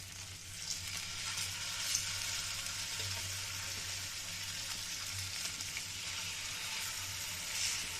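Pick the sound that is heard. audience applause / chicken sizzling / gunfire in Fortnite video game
chicken sizzling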